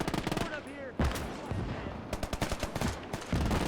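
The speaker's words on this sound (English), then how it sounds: "M3 grease gun could be heard there" Submachine gun bursts from an M3 grease gun in a Battle of the Bulge war game, rapid loud automatic fire mixed with other gunfire and explosions, some speech-like battle noise in between.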